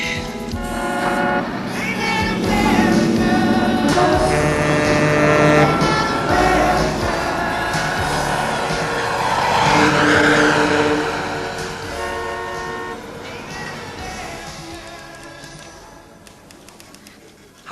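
Several vehicle horns honking loudly and repeatedly in a dense, overlapping blare of sustained tones, rising and falling over a long stretch before thinning out.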